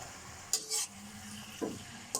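Tofu and water spinach are stirred in a frying pan, with a few sharp spatula scrapes and clinks over a quiet, steady sizzle.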